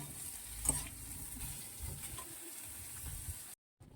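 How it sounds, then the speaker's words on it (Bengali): Chicken pieces fry in a pan and are stirred: a soft, quiet sizzle with occasional scraping stirs, cutting off abruptly just before the end. "চিকেনের টুকরোগুলো দিয়ে দিয়েছি, দিয়ে একটু ভাজা ভাজা করে নেবো।"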